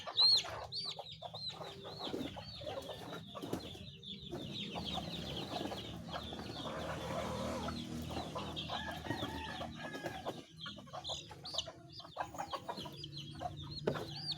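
Chicks and hens of a gamefowl brood cluck and peep together, with a rooster crowing at moments, in a busy, continuous barnyard chorus close by and no talk.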